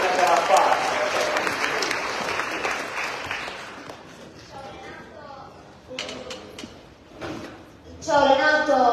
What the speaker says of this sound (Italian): Io devo fare un applauso